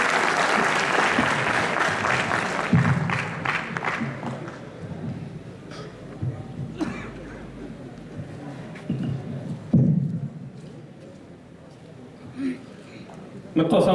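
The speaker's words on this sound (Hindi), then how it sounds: "तालियों बजाइए" Audience applause at a poetry gathering at an engineering college in Lucknow, loud crowd clapping at the start that thins and fades into scattered claps and murmurs over several seconds, with voices in between.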